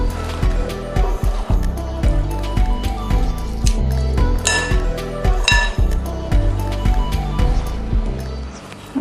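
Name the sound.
mixing vegetables with oil in a bowl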